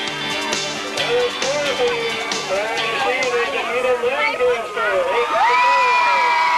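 A high school football crowd erupts in loud, sustained cheering and shouting in the stands as a score is announced, many voices rising and swelling together in the open air.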